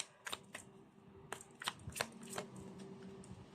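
A deck of blessing cards is shuffled nearby in several quick riffling bursts and soft taps, with short pauses between them and no talking.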